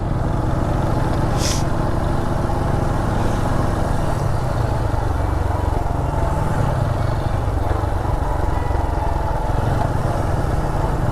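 A motorcycle carries three passengers along a road on the way to Keokeradong, its engine droning loud and steady throughout with wind noise and no clear speech.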